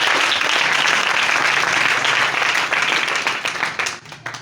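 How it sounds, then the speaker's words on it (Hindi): A church congregation bursts into loud, continuous applause during a worship sermon, the clapping holding steady before thinning out and fading near the end. "मुझे उसके जलाल के लिए जोरदार ताली।"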